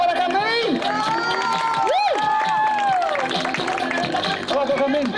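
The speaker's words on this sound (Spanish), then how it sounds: "Fuerte el aplauso para Jazmín." Children cheering and shouting at a summer day camp, loud, close and continuous, with high excited voices rising and falling over scattered clapping.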